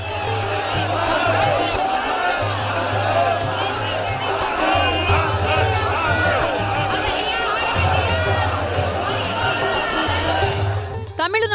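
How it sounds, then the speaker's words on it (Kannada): A vast crowd of devotees at the Kumbh Mela holy bathing chants Har Har Mahadev. The chanting and cheering form a dense, loud, continuous roar, with a voice speaking over it. "ಎಲ್ಲ ಕಡೆಯೂ ಹರ ಹರ ಮಹಾದೇವ ಜೈಕಾರ ಮೇಳೈಸಿತ್ತು"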